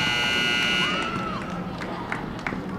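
A basketball quarter-end buzzer sounds at a high school girls' game, a loud sustained electronic tone lasting about a second over gym crowd noise before cutting off, with the crowd murmuring afterward.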